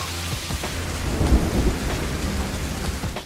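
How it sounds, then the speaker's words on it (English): Heavy pouring rain hisses steadily throughout a film scene, with a deep rumble of thunder rolling through the middle, all loud and close with no speech. "Where it's always pouring rain."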